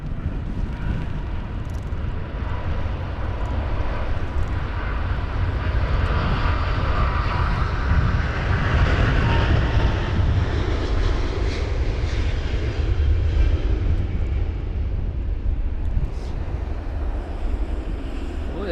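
A British Airways Airbus A350-1000 takes off from Heathrow in storm-force wind, its engines a sustained loud roar that swells and then slowly recedes as it climbs, with gusty wind buffeting the microphone throughout.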